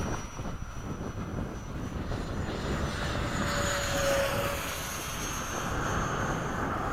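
A 70mm FMS F/A-18 electric ducted-fan RC jet roars overhead in a steady, continuous whoosh that swells slightly as it passes, fairly loud with no voices.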